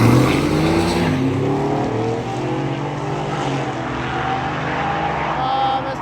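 A cheap challenge car makes a full-throttle drag strip pass at a drag-and-drive event, the engine loud and close, winding up through rising, shifting tones before fading slightly as it pulls away, with faint voices underneath.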